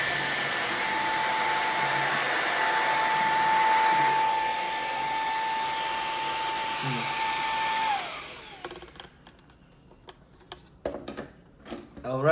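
A portable vacuum cleaner runs steadily at its second speed setting, a loud continuous whine with a tonal hum, then cuts off near the end, leaving faint handling clicks and knocks.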